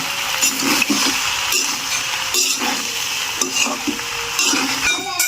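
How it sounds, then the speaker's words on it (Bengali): A spoon stirs chicken pasta with fried scrambled egg in a pan, giving repeated scraping and clinking strokes over a soft sizzle, close and fairly loud, with no talking. "এবার সব কিছু একসাথে দিয়ে সুন্দরভাবে নেড়ে চেড়ে নেব।"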